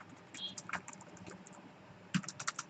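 Typing C code on a computer keyboard, a quiet run of irregular key clicks with a small burst of taps near the end, no talking.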